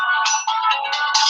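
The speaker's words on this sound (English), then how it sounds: "my bad, that's my phone." A mobile phone ringtone plays loud and near, a bright electronic melody of short repeating tonal phrases that goes on unanswered indoors.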